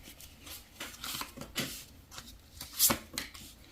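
Oracle cards being shuffled by hand in a quiet room, a close, soft run of riffling and sliding card sounds with a sharper snap near the end.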